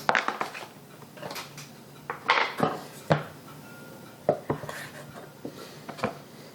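A knife cuts slices of brie on a board, producing several separate soft thuds and scrapes of blade against wood and dishware, close and fairly quiet with gaps between strokes.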